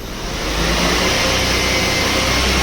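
Maruti Wagon R petrol engine revving hard in gear while the car sits up on a jack, a loud, steady close-up drone that climbs slightly and holds without pause.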